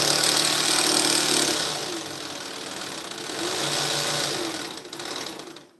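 A sewing machine runs fast to wind a bobbin, giving a steady whirring motor drone that slows briefly midway, speeds up again, then winds down at the end.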